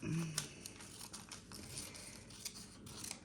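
Scissors snip through scrap wrapping paper to cut a long strip, quiet crisp cuts and paper crinkles recurring at an uneven pace, close up.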